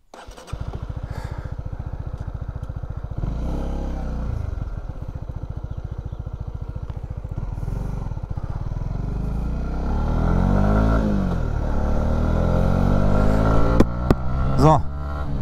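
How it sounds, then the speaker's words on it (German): A motorcycle ridden on the road, its engine a steady droning rumble that swells as it revs and accelerates, close and loud with wind noise, while a rider talks over it. "aber ich denke mir mal, wir springen aufs Motorrad."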